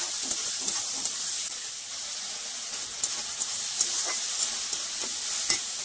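A spice paste of ginger, garlic, onion, tomato and green chilli fries in hot oil for a river crab curry, a steady even sizzling hiss with faint occasional ticks and stirring scrapes.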